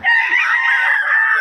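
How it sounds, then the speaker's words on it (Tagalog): A fighting cock for sale in Pampanga crows once, a loud sustained call held close to the listener for over a second before cutting off abruptly. "Mura lang yung mga manok ni boss."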